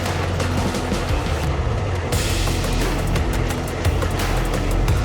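Humvee driving along, a steady low engine and drivetrain rumble with road noise rolling continuously throughout, fairly close and loud.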